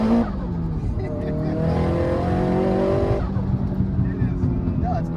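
A Nissan Silvia Spec R S15 drift car's engine climbs in pitch as it accelerates hard, heard loud from inside the car with tire noise beneath, and the tone drops and settles after a shift.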